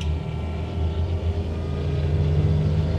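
A John Deere Gator XUV 865M diesel utility vehicle accelerates hard, its engine and transmission making a steady, loud, low drone from inside the cab with no talking.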